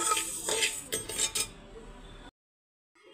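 Metal utensil scraping and clinking against a pressure cooker pot as dry-roasted rice is stirred, a quick run of bright clatters lasting about two seconds, then silence.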